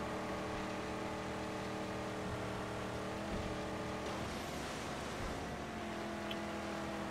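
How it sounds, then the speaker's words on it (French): A turbocharged V6 car engine in the Mad Max video game drones steadily and loudly, a continuous close hum with a slight change in pitch midway and no talk over it. "Déjà, ma voiture, elle a un beau turbo. Un V6, il me semble."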